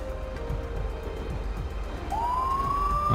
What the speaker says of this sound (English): I gotta turn off my siren.